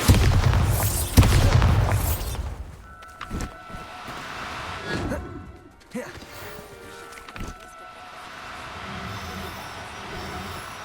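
A Bombarda blasting spell explodes in the video game Hogwarts Legacy: loud booming bursts open, then fade into rumbling, crackling debris and ringing tones, with a voice speaking over part of it.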